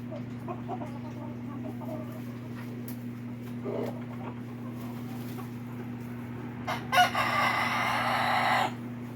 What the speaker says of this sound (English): little chicken's back up on the hay bale